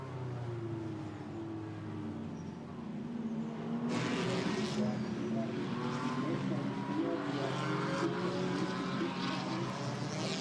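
GT4 race cars at Hockenheim roaring past a trackside wall camera, engines building from a steady drone into a loud, close rush of several cars passing in succession, with a commentator speaking over it.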